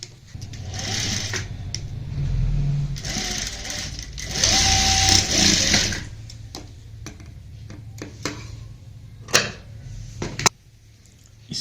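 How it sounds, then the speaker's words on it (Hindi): A sewing machine stitches a round collar neckline in quick whirring bursts with short pauses between runs, close and steady, ending with a few light clicks and handling taps. "अब हमें यहाँ पे सिलाई लगानी है"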